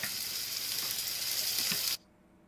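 Honey sizzles loudly and steadily in a frying pan for about two seconds, then cuts off abruptly, leaving near silence.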